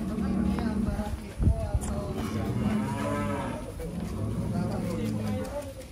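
A large prize-winning show cow moos loudly at a farm, with long low calls rising over the lowing of other cattle and people chatting nearby throughout.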